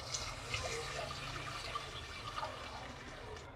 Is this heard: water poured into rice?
yes